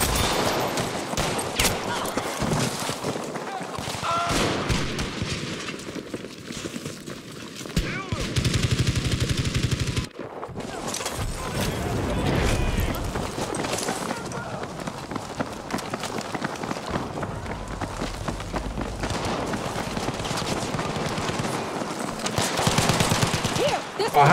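Rapid gunfire and running footsteps fill a match of the shooter game Battlefield V, with bursts of shots and steady rattling close up while a player talks over the action.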